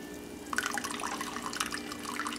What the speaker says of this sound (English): All right, so we're just about done here with the straining.